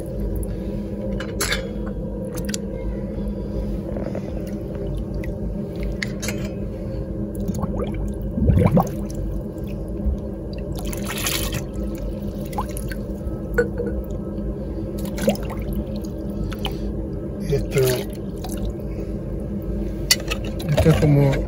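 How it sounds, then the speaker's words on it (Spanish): A kitchen utensil is plunged into water and turned so every surface is wetted, as in the Jewish ritual immersion of vessels, giving a steady wash of sloshing with scattered drips and wet squishes throughout. "Sumergimos todo el kli, damos vuelta para que todas las partes del kli"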